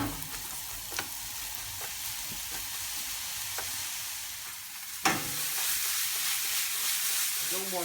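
Onions fry on a high flame for a coconut seabass korma, a steady soft sizzle with occasional stirring clicks and a louder burst of hiss midway, fairly quiet and without talk.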